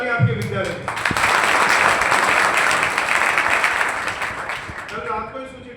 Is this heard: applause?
yes